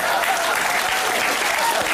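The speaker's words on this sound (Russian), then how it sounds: "Ваши аплодисменты" Steady, dense applause from a large audience, continuous clapping filling the whole moment without a break.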